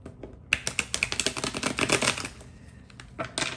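Tarot cards shuffled and drawn, giving a run of quick, crisp flicking and snapping card sounds in bursts, close and fairly soft, with a short pause before a final flurry.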